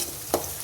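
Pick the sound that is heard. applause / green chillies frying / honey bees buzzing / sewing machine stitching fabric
green chillies frying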